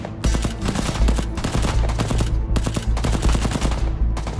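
Heavy gunfire rages through a battle scene, dense bursts of automatic weapons mixed with single shots, loud and continuous with no break and no voices.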